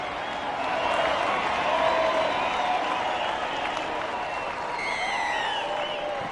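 At a Rugby League match between Saints and Wigan, the stadium crowd keeps up a loud, steady roar with clapping and cheering during a goal kick, and a commentator talks over it.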